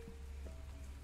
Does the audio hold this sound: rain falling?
yes